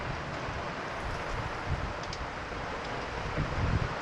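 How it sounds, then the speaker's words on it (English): Strong wind at sea buffets a sailing boat during a Pacific Ocean crossing as rain sets in, a steady broadband roar with low gusty rumbling and no speech. "Wind went from 6 knots to 20 knots"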